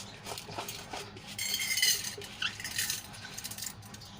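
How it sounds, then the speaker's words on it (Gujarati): Washed rice is tipped into a metal pressure cooker, producing faint, close metallic clinks and light scraping that come in a few brief bursts in a quiet kitchen. "હવે એને બાફવા માટે આપણે કુકરમાં એડ કરી લઈશું"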